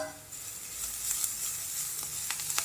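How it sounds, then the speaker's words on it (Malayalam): Grated carrot sautés with curry leaves in a hot pan, a steady soft sizzle with a few sharper crackles and stirring scrapes near the end, no voices. "ഇനി ഇതൊന്ന് 2-3 മിനിറ്റ് നേരം നമുക്കൊന്ന് വഴറ്റിയെടുക്കാം."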